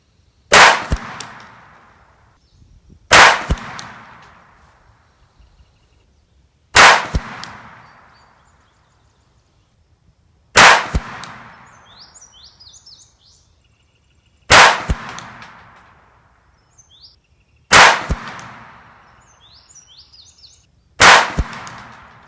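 Seven sharp pistol shots from a Ruger Mark IV .22LR with a 5-inch barrel, fired at a 100-yard target, evenly spaced about three seconds apart and loud and close, each with a short ringing tail, and faint metallic clinks from distant steel hits after some.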